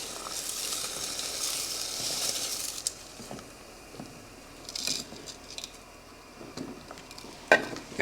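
Turkey brine mix sprinkled into a pot of water over a flame and stirred, a soft steady hiss with scattered light taps and scrapes, quiet and close.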